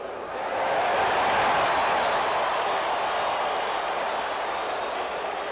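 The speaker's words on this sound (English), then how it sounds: "Listen to the crowd." A baseball stadium crowd at Game 7 of the 1982 World Series roars in a dense, sustained wash of cheering and applause that swells early and holds steady, distant and enveloping, with no clear voices on top.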